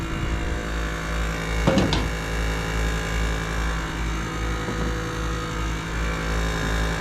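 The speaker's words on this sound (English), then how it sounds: "That compressor is getting really loud." A PTAC air conditioner compressor runs with a loud, steady low hum and drone, a brief clatter partway through, and no voices.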